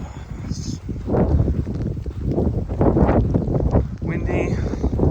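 Gusty wind on a hike through the Coskata-Coatue Wildlife Refuge on Nantucket buffets the microphone in rumbling surges, loud and close, with a person talking underneath.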